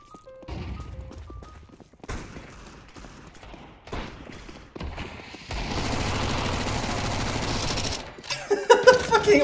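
Video game gunfire from a bullet box gun: scattered sharp shots give way to a sustained stretch of rapid continuous firing, then loud closely spaced bursts toward the end.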